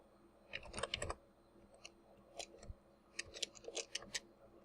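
Keys clatter on a computer keyboard in short irregular bursts of quick clicks with brief pauses between them, close by and fairly quiet.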